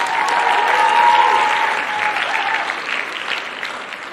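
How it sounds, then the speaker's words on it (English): An audience at a high school a cappella group competition gives a sustained round of applause, dense clapping that starts strong and slowly tapers off, with faint cheering mixed in. "Another round of applause."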